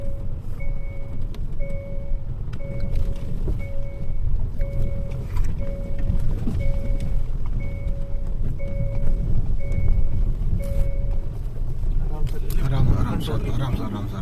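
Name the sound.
vehicle driving through a dense forest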